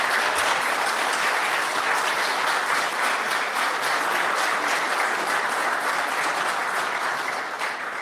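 Audience applause during a university debate with journalists, a dense sustained burst of many hands clapping that holds steady for several seconds and fades slightly at the end, no speech over it.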